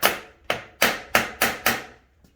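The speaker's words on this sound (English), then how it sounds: "all I'm doing to crack it open is hitting it with the hammer" Six sharp, evenly spaced hammer taps ring out close and loud on a Craftsman riding mower engine case as it is knocked apart, each strike trailing off briefly before the next, with no talking.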